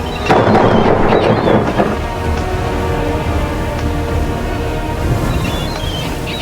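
A thunderstorm with a loud, rolling thunder rumble in the first two seconds, then a steady wash of heavy rain that carries on to the end.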